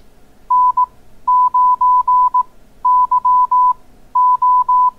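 Short, steady electronic Morse code CW beeps at one pitch calling CQ, sounding in quick groups with brief pauses between them, keyed in a clear, regular rhythm.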